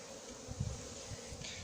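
Honeybees from a swarm gathering to enter a cardboard box at Soignolles-en-Brie, a steady low buzzing hum from many bees, fairly even and continuous with slight swells.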